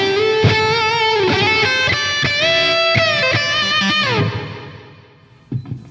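Electric guitar played through a St. Rock Amperium modeler with a delay-reverb effect: sustained notes and short chords ring out with echoing repeats and a lingering wash, then fade into a soft tail with a couple of faint later plucks.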